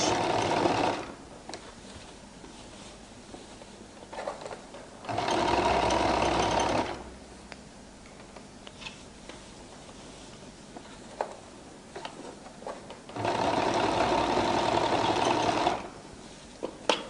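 Sewing machine top stitching the waistline of a flared skirt, running in two loud bursts of rapid whirring stitching, separated by quieter handling and fabric rustle, close up with no speech.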